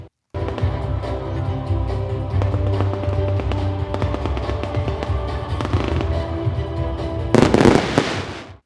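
Fireworks bursting over a night sky at a neighborhood moonlight culture festival, a continuous crackling barrage of loud pops and bangs with a dense flurry of bursts near the end before an abrupt stop.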